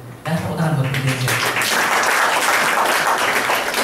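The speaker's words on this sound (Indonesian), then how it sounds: "tepuk tangan buat Prudential" Audience bursting into applause after a brief voice, a loud dense round of clapping from a gathered group that carries on steadily to the end.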